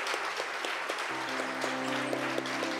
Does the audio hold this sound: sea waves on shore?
no